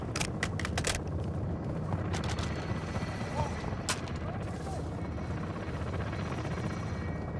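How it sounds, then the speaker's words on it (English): Gunfire in the 2022 video game Modern Warfare II, sharp shots clustered early then scattered, set against a steady loud rumble resembling a helicopter, with faint voices in the background. "I don't know what I'm shooting at"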